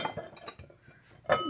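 Cheap ceramic dinner plates set down and stacked, giving a few sharp clinks near the start and a louder clatter near the end, close by, with no talking.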